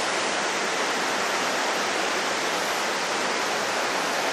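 Steady roaring rush of the Mahua waterfall, a dense continuous wash of noise with no pauses.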